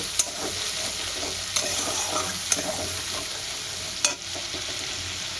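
Ground spice paste is stir-fried in a pan for a katla fish and kochur loti dish, with a continuous near sizzle and a few distinct spatula knocks at intervals; no voices.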